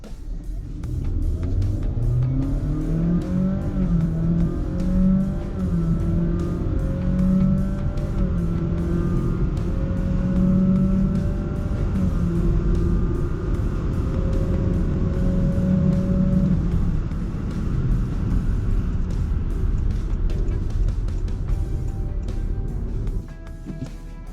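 A Honda City e:HEV hybrid car accelerating hard from 0 to 100 km/h, its engine drone climbing steadily in pitch over a constant rumble of road and tire noise for about twenty seconds, with no talking.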